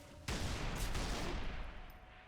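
A burst of automatic gunfire from a gun in the video game Halo 3 ODST, heard as a quick run of dense, close shots that starts sharply after a short pause and carries on for about two seconds.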